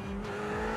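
A race car in the iRacing sim accelerating out of a corner, its engine note rising and holding steady through a brief, continuous, fairly loud drone with no talk over it.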